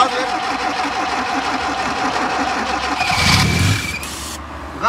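An old, long-abandoned Lada VAZ car engine under restoration runs loud and close, then swells as the gas is pressed, with people talking nearby.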